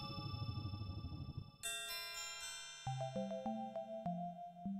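Ringtone-like preset on an E-MU Proteus 2000 synthesizer: a bright chime chord rings out, then a rapid sequence of short melodic blips in a repeating ringtone pattern, clean and close, with no talking.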